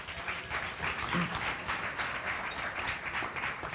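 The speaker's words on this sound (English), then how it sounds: "Give yourselves a round of applause." Audience at a Latino leaders' inaugural celebration dinner in January 2009 applauding, a dense, steady patter of many hands clapping at moderate volume.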